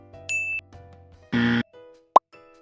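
Samsung Galaxy S10e set on its wireless charging base gives short electronic tones: a brief high beep, a fuller chime, then a quick sharp ding, all close and clean with no voices.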